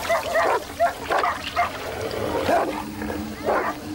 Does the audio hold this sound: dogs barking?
yes